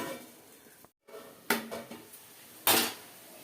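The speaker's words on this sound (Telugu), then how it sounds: "మూత పెడతాను రెండు నిమిషాలు" A lid set onto a cooking pan while fish cooks, giving a few sharp metallic clatters and knocks separated by brief pauses, close by.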